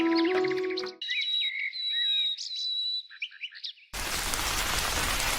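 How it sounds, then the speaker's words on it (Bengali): In an animated Bengali cartoon, bird-like chirps and whistles give way to a sudden, steady hiss of heavy rain that fills the last second and a half, loud and unbroken. "যে বৃষ্টি শুরু হয়েছে"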